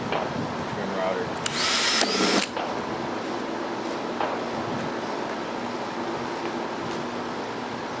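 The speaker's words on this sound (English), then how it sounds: "First I'm going to drill a hole just to make it easier to use the trim router." Power drill boring a hole through laminate on a van composting toilet build, a short high whine lasting about a second, close, over steady background noise and light handling sounds.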